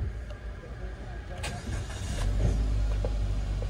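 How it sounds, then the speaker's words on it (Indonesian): A used car for sale cranks and catches, settling into a quiet idle that grows slightly louder and steadier after starting, with faint background clatter. "Mesin nyala."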